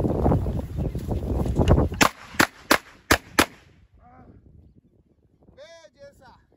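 Four or five sharp blasts from a Bossan assault shotgun fire in quick succession after a stretch of rustling and handling noise, followed by faint clinks and quiet movement.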